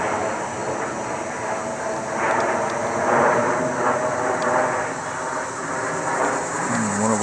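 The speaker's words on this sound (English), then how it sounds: "One of our planes flying back to Dover Air Force Base." A military plane flies overhead toward Dover Air Force Base, a steady broad engine roar holding level for several seconds across a wooded setting with leaves still on the trees.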